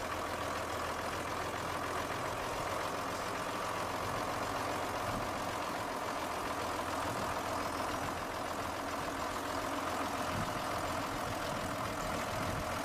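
A tractor engine runs steadily with an oversized potato digger hitched behind, a continuous low mechanical drone at constant loudness throughout, with no voices.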